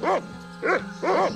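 A cartoon dog in the Monkey Island 2 adventure game barks three times in an even rhythm, each bark loud and close, over a steady low background hum.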